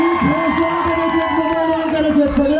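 A crowd at a Dahi Handi event cheers and whoops for Vinayak Mali, a loud, continuous swell of shouting and hubbub with a strong sustained musical tone running underneath and a voice speaking over it.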